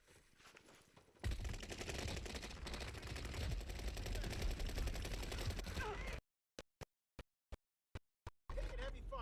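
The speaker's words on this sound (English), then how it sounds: "Taking heavy fire." Heavy automatic gunfire in Warzone, a dense, loud barrage running for several seconds, then a short string of isolated single shots separated by silence before firing resumes.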